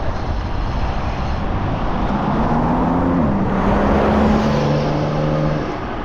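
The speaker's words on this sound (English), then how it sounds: "BMW sounds like it's about to fall apart any second." A BMW car driving past a cyclist on a Seattle street, a loud close engine and road roar with a rising then falling tone as it goes by, no talking.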